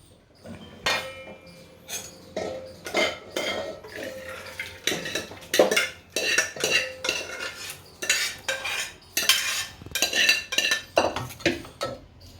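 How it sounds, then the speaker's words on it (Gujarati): A spoon scoops boiled urad dal from a pot into another vessel, with a series of irregular, fairly loud metallic scrapes, clanks and clinks against the cookware. "અને એક વાસણમાં કાઢી લઈશું"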